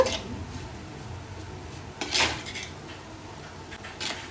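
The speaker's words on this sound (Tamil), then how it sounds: "இப்போ நல்லா கிளறி விட்டுக்கலாம்" A spoon scrapes and clinks against a pan as long beans stir-fried with coconut are mixed, a quiet intermittent rattle with a louder scrape near the middle and another toward the end.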